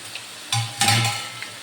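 Thin potato wafers dropped into hot oil, two sharp bursts of sizzling bubbling up close and loud, then settling into a softer fry with a faint clink.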